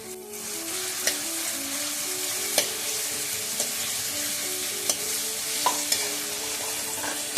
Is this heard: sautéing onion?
yes